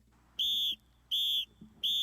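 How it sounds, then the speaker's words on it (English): At sports practice, a shrill whistle sounds three times in close succession, each blast sharp and loud for about a third of a second with short quiet gaps between, over faint background noise. "Blow the whistle. Line up."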